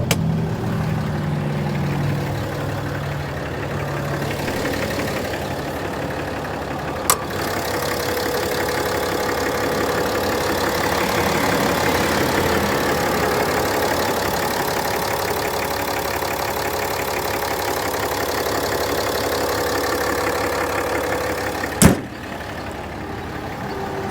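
A 2018 Ram 2500 Lone Star with the 6.7L Cummins diesel idles steadily with the hood up, a low, even rumble with a faint knock, close and continuous with two brief clicks and no talk.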